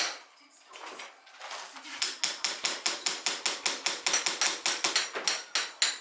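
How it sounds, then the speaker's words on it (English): Hammering during a bedroom renovation, a rapid, regular series of sharp close blows, about four per second, starting after a few quieter knocks and continuing steadily to the end. "What I tend to do is, instead of watching the walls, I watch where I'm hammering."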